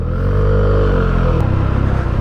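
An SWM 650 Super Dual single-cylinder motorcycle with twin exhausts runs loud and close, its engine droning steadily before settling into a rougher, thumping idle.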